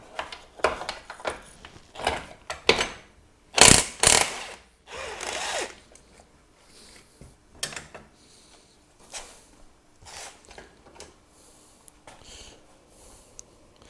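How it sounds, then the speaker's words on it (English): A ratchet works a bolt loose on a 2000 Ford Super Duty during a flatbed install, with bursts of quick clicking and clanking tool noise close by, loudest near the middle, then lighter intermittent clicks. "So let's remove the bolt in question down in here."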